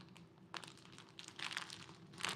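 Bulk substrate being broken up inside a plastic bag: crinkling and crunching bursts of plastic, close and fairly quiet, coming in irregular clumps with short pauses between.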